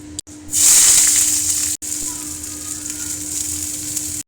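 Onions go into hot oil with black cumin and whole dried chillies, setting off a loud, close burst of sizzling that settles into a steady hiss, with no speech.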